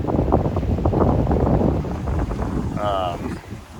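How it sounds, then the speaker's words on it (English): Steady wind roars and buffets a microphone on a sailboat sailing the US East Coast, wind from behind and on the beam, a constant low rushing with gusts, and a brief higher whine partway through. "The wind's behind me. It's kind of on my beam."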